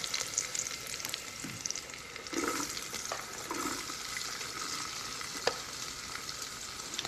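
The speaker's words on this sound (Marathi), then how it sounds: "त्याच्यात कांदा टाकून" Chopped onion hits garlic already browning in a hot pan, and a faint, steady sizzle and frying crackle carries on throughout without any voices.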